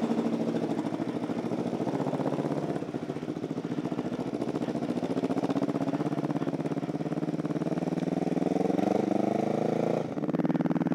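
A motorcycle engine runs steadily at idle on a cold 28-degree winter day, a continuous close, even rumble. Near the end the pitch dips briefly.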